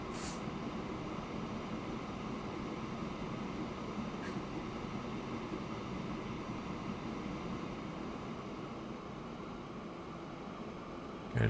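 A train rolls steadily along the track in the rail-building game Transport Fever, a continuous, even rumble of wheels and carriages lasting throughout with no talking.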